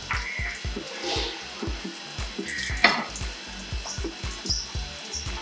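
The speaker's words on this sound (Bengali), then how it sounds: "এবার এতে আমি ভেজে রাখা মাছগুলোকে দিয়ে দিচ্ছি।" Pieces of fried fish go into a pan of fish stew, giving a steady sizzle and bubbling with a series of soft repeated knocks and one sharper clatter, with no voices.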